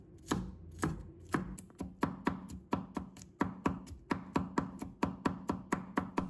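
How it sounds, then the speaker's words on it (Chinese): A knife mincing garlic on a cutting board, with steady, rapid chops that land close and crisp in an even rhythm and no talking. "再准备一把大蒜，把它切成片"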